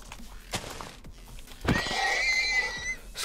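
A horse whinnies in the Minecraft video game, a bright, wavering neigh rising after a soft thud and holding for over a second, fairly loud against quiet in-game background with a faint knock earlier.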